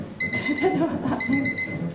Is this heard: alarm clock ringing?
yes